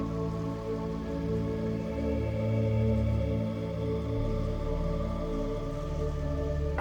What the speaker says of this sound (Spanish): dirige toda tu atención hacia los sonidos de la lluvia